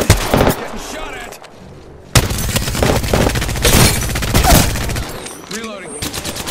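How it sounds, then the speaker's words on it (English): Gunfire in the video game Apex Legends, with dense rapid bursts and sharp shots crackling through most of the stretch, loud and close, with voices mixed in. "Getting shot at."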